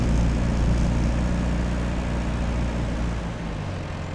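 The smallest Mercedes-Benz tractor in Farming Simulator 25 runs with a steady, loud droning engine rumble that holds constant and eases slightly toward the end.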